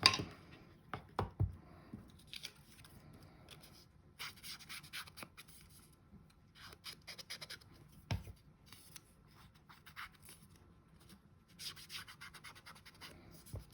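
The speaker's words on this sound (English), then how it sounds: "I'm going to ink it and tape it together" Paper embellishment edges are inked, giving soft intermittent rubbing and dabbing strokes with occasional light taps, close and quiet, with no voices.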